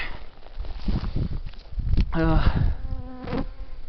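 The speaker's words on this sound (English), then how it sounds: "Oh, bugs are really bad today." Swarming insects buzz close around a hiker's face on a forest trail in the Angeles National Forest, a steady drone with a nearby voice speaking over it and brief footstep scuffs.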